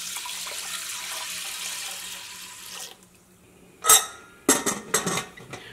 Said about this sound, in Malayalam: ഇനി അരി വേവിക്കാൻ വേണ്ടിയിട്ട് ഞാൻ ഇതിലേക്ക് 3 ഗ്ലാസ് വെള്ളമാണ് ചേർക്കുന്നത്.